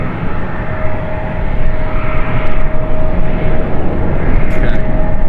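An Emirates airliner at Manchester Airport roars close and loud with a broad steady engine rumble and a thin sustained whine, faint voices now and then over it.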